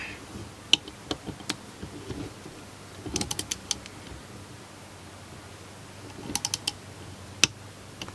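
Quarter-inch drive torque wrench set to 27 inch-pounds on a 2005 Ford Expedition throttle position sensor, giving faint, sharp single clicks and a few quick clusters of clicks, close and quiet with no talk.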